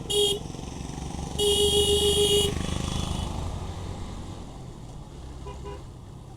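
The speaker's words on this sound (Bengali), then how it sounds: "ব্লাইন্ড স্পটগুলো অবশ্যই হর্ন দিয়ে আসতে হবে" A vehicle horn honks twice at a blind corner on a winding mountain road, a short toot then a longer blast, over the steady drone of a motorcycle engine.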